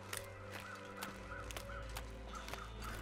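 Crows cawing in the survival video game The Long Dark, a few repeated caws over a steady low game ambience with no talk.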